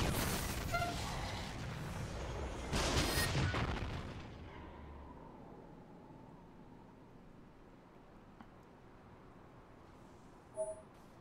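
A weapon in NieR: Automata fires at close range at maximum output, booming in a heavy blast burst for a few seconds before fading into a low, quiet rumble, with a small thud near the end.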